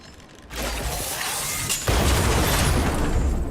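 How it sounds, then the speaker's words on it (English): In the sci-fi game Honkai: Star Rail, a sudden blast erupts with a dense, crackling roar that swells into a heavier, booming rumble and sustains to the end. "We wiped them all out in a single explosion!"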